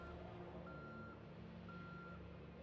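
An RV in the Project Zomboid video game sounds two steady, evenly spaced reversing beeps, faint and thin over a constant low engine drone.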